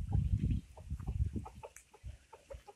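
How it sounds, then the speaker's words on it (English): Hens and a rooster cluck in short, irregular bursts nearby, with soft peeps from chicks and scratchy movement between calls. "And I see two chickens, two hens."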